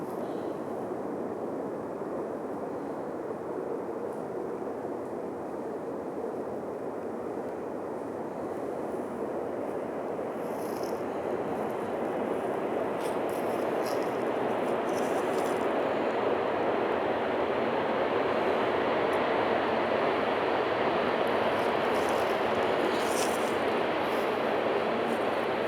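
A train passing near a forest campsite at night, a continuous broad roar that builds slowly and holds steady for a long stretch, loud and close.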